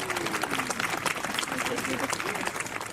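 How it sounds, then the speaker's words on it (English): A crowd applauds with dense, steady clapping that fills the whole stretch, while a voice talks over it. "A round of applause."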